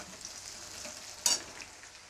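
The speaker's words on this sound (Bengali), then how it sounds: "পেঁয়াজটা আর আলুটা নেড়ে নিই একদম লাল লাল হয়ে আসছে" Onion and potato fry in a pan with a continuous close sizzle while a utensil stirs them, and one brief louder scrape stands out midway; no one speaks.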